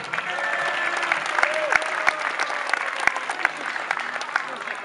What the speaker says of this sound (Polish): Oczywiście także wielkie brawa